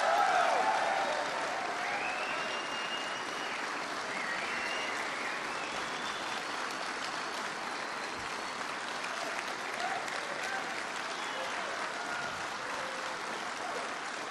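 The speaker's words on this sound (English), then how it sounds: "Were you applauding for someone in particular?" An audience at a Trump speech in New York applauds in a sustained, even wash of clapping, heard from a distance at moderate volume with no talking over it.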